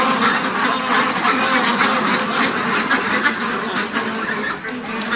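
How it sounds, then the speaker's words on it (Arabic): Flock of pure French ducks on a farm quacking loudly and continuously, many overlapping calls close by forming a dense chorus with no talk over it. "عدد كبير والبط نضيف زي ما انتوا شايفين"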